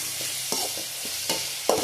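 Mustard seeds, fennel, curry leaves and green chilli sizzling in hot oil, a dense continuous crackle close up with a few quick scraping stirs cutting through.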